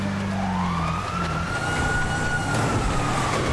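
Police car sirens in the video game GTA V, a loud continuous wailing that sweeps up and down, overlapping with a lower drone and steady engine rumble, heard alone without talk.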